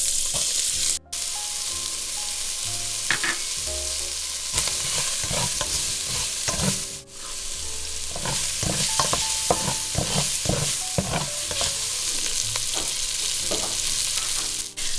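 Aromatics frying with seared pork belly and its rendered fat in a wok, a loud, steady sizzle with repeated scraping and stirring strokes throughout, heard close with no talking.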